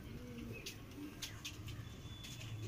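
Soft, distant cooing of white Jiria Madrasi pigeons in a loft in Howrah, over a low background murmur, with faint chirps scattered throughout.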